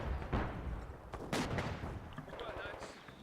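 Mortar rounds in the World War II strategy game Company of Heroes 2 boom and crack in quick succession during a battle at Essen Steelworks, with sharp blasts, rumbling tails and a busy clatter of combat around them.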